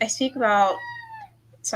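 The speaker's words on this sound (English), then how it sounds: "my cat is not happy that she's locked in my room right now" A cat shut inside a room lets out one drawn-out, clear meow between short bits of a person talking, close and fairly loud.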